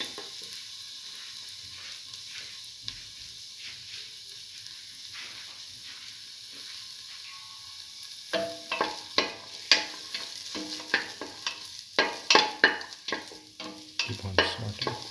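Salted shallots sauteing in a little oil in a pan: a quiet sizzle at first, then busy stirring takes over with rapid, clattering scrapes and taps of the utensil against the pan, close and without talking.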